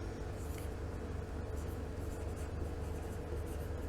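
A marker or chalk writes on a board in a steady, continuous scratchy stroke, close and quiet, with no pauses over the few seconds.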